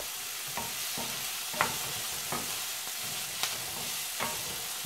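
Garlic sizzling in a pan on the stove, a constant hiss of frying with regular stirring scrapes about once a second, close and unaccompanied by speech.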